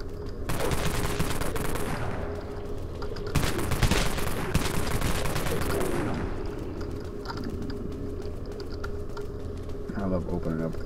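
Rapid cannon gunfire in the online zombie shooter game Dead Frontier, a dense, continuous burst of shots lasting several seconds before easing into quieter game noise and scattered clicks.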